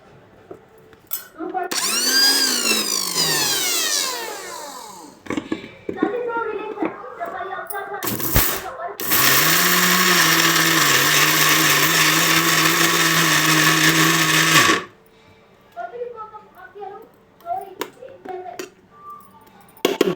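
A mixer grinder blending curry leaves into paste, with one short whirring burst and then a long loud steady grind of several seconds, surrounded by clinks and handling noises while a person talks in between.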